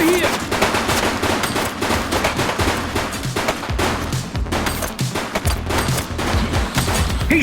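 Dense, loud rapid gunfire from a police crime game set on city streets, continuous automatic bursts and sharp shots filling the whole stretch with little pause.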